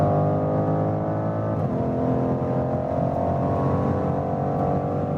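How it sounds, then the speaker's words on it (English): A BMW M5 sedan's engine and exhaust drone steadily from inside the cabin while accelerating, with a brief shift around the middle and a continuous, moderately loud tone afterward. "means we hear more from the exhaust"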